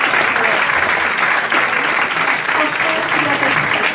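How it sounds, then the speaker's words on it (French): Loud, continuous applause from an audience at a startup pitch marathon event, dense clapping filling the room without pause. "je voudrais un petit round d'applaudissements"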